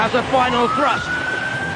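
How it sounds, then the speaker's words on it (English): A rising, then sustained electronic siren tone from a robot combat arena pit release emerges under a voice, holding a steady high pitch after he stops speaking. "The pit release button has been activated. That's the siren you can hear."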